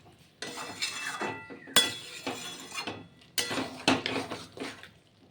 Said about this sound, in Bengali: নাড়াচাড়া করে ভালো করে কষিয়ে নিচ্ছি